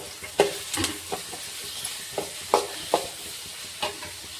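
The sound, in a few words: onions and green chillies frying in oil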